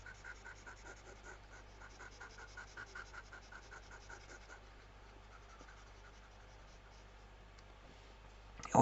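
A pen draws on paper while a figure is redrawn for a geometry lesson: a soft, steady scratching that continues under faint background hum and ends in a brief louder knock.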